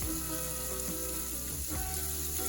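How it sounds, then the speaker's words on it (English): Fatty bacon frying slowly in a little oil in a pan, a continuous close sizzle and crackle with small pops, steady and unbroken with no talking. "I'm frying my bacon until it's nice and crisp and the onions are translucent"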